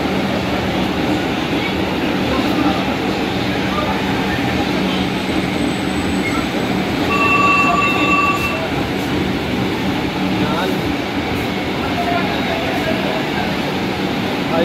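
A Kolkata Metro train rumbles at an underground station, a loud sustained roar of wheels and carriages with brief high squeals from the rails partway through, and faint voices beneath.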